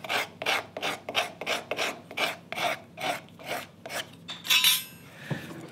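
A steel card scraper is pushed across a wooden marking-gauge piece in about a dozen rhythmic, rasping strokes, close and fairly loud, ending with a brief metallic scrape.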